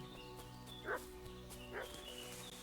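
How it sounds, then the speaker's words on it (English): Two separate barks from a dog in Kingdom Come Deliverance 2, about a second apart, heard at moderate distance over a quiet outdoor ambience with faint birds. "What's that dog making such a fuss about?"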